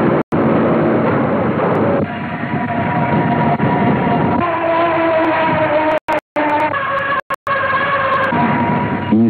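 Marble quarry wire saw wheels screech in a continuous loud, grinding wail with sustained shifting tones, broken by a few very brief dropouts.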